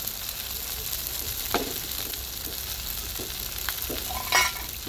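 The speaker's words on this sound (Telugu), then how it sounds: "అంతా కలిసేలాగైతే కలిపేసుకోవాలి." Chilli powder and coriander powder stirred into chicken head curry in a pan, a low even sizzle with occasional soft scrapes and one brighter clatter near the end, no talking.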